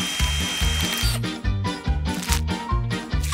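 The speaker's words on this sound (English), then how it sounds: "Still, we'll need to drill those cavities." A drill works on a toy's cavities during a makeover game, a loud rhythmic pulsing whine with quick repeated mechanical bursts and a ratcheting pattern throughout, with no voices.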